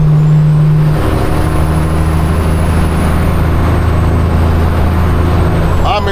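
A semi truck crossing the George Washington Bridge in NYC, its loud engine drone and road rumble steady throughout, a sharp air brake hiss bursting out near the start.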